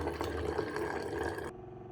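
A Waterdrop electric water pitcher dispenses filtered water into a glass with a steady pouring trickle and a faint motor hum, cutting off abruptly after about a second and a half.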